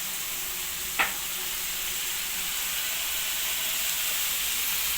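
Onion, garlic and spices fry in a pan with a steady bright sizzle, broken once early by a short clink of the stirring utensil against the pan.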